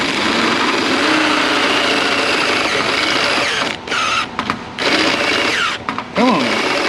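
A carbide burr grinder enlarges an oval hole during a Slosh Tubz install on a C30 dually, producing a continuous, loud, high-pitched grinding whine up close that briefly drops out a few times near the end as the tool eases off and bites again.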